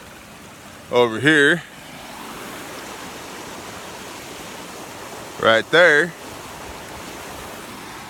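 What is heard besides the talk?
creek water flowing over a spillway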